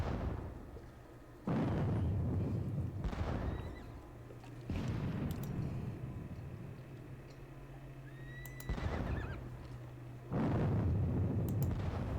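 Guard units fire in a Battle of Bautzen war game, producing several heavy, muffled volleys of gunfire and blasts that each roll out for a second or two, separated by quieter ambient gaps.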